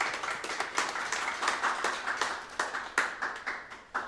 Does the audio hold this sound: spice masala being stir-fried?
no